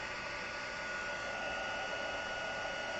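A heat tool dries a stamped craft project coated with embossing powder, giving a steady, loud, close blowing whir that holds unchanged throughout with no talking.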